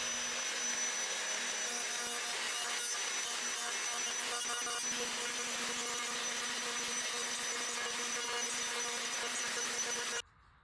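Router riding on a homemade jig while cutting wood, a continuous high, hissing whine that stays steady for about ten seconds before cutting off abruptly; moderately faint, nobody talking.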